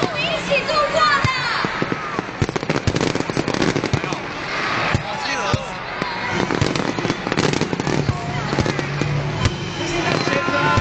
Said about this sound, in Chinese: 有史以来最长的烟火的一个记录啊！